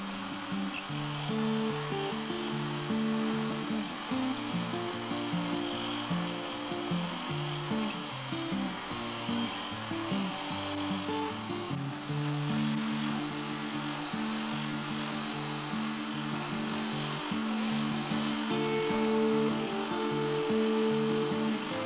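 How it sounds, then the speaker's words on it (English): An electric whisk whips homemade body butter in a container, a continuous close mechanical whirring with a warbling tone that holds steady throughout. "And then we'll whisk it one more time."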